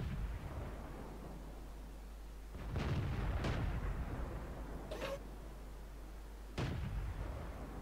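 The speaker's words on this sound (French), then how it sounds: "J'ai tenté de contre-artiller." Artillery fire in the World of Tanks video game, a few distant muffled booms at irregular intervals over a low constant rumble, with no talking.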